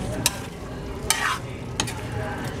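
Food stirred in a frying pan over a low sizzle, three distinct scraping strokes spaced across a short stretch, close and moderately loud.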